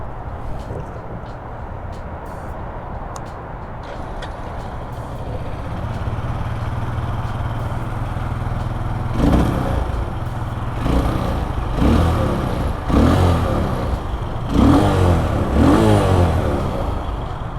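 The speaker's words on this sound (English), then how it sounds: "It's a single cylinder engine." A single-cylinder 2017 K-Pipe 125 motorcycle engine idles with a steady low rumble, then revs up in several rising bursts, close and fairly loud.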